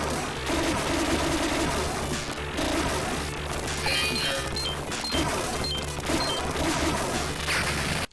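Multiple laser shots fired at once from a narrow-hitbox ship in the arcade shooter Cosmic Cop: a dense, loud, nonstop volley of zapping shots with bright electronic blips, crashes and a busy game soundtrack underneath.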